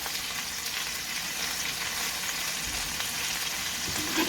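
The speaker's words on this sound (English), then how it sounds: "And to this pan, I'm going to add the butter." Butter sizzling and frying in a hot pan used for searing a ribeye steak, a steady broadband crackle and hiss that holds evenly throughout, close and fairly loud, with no talking.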